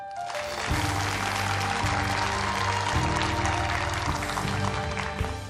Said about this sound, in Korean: 강연을 박수로 청해 보겠습니다